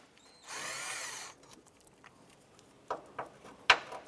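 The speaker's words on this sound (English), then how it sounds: "They're held in with a 10 millimeter bolt. I'm going to use our socket and remove these." A power socket tool whirs for about a second while removing a 10 millimeter bolt on the A/C condenser bracket of a 2006–2013 Chevrolet Impala, followed by a few faint metallic clicks and taps.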